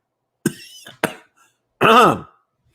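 Three coughs in quick succession, two short sharp hacks followed by a longer, heavier rasping cough, close and loud with silence between.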